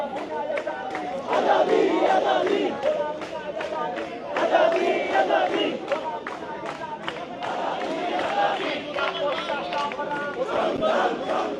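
A large outdoor crowd at a night protest in front of Jamuna chants slogans demanding an Awami League ban, loud rhythmic call-and-response shouting that swells and fades in waves throughout.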